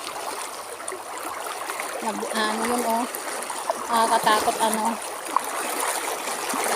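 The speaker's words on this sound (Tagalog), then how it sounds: "Malalim kasi guys at saka ano mabilis ang tubig." Deep, fast-flowing river water rushes steadily throughout, a broad continuous wash with splashy texture, while people talk and exclaim over it.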